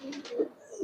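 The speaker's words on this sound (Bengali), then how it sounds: "এই যে এখানে একটা খাকি কবুতর যেটা ডিমে বসে আছে।" A khaki pigeon sitting on eggs in a pigeon loft gives a few soft, low coos, each swelling briefly, close by and alone against the quiet.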